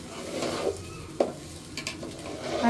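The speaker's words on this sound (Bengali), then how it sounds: "এই পাশে সব মাংস দিয়ে নিছি, এখন ভালো করে কষিয়ে নিব" Meat is seared and stirred in a pan to make a Bengali curry, with a low sizzle under scraping and clinking of a spoon against the pan and a few sharper knocks.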